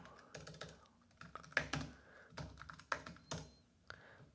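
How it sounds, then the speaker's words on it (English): Keystrokes on a computer keyboard as a city name is typed into a map search, coming in short irregular bursts of quick clicks, fairly close and quiet, with no talking. "And let's type in"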